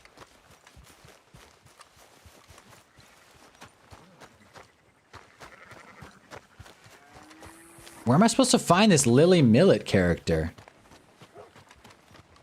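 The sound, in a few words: horse hooves clip-clopping in a video game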